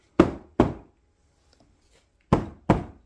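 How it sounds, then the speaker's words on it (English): A weighted 24-ounce mallet taps a seat back into a modular sectional sofa: four firm, dull thunks in two pairs, close and distinct, with quiet pauses between them and no talking. "put it over the top, and just give it slight taps"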